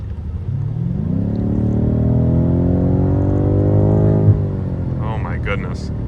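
A BMW M5 Competition F90 engine heard from inside the car. The engine note rises smoothly as it accelerates and then drops away off throttle with a small pop, while a voice talks over it.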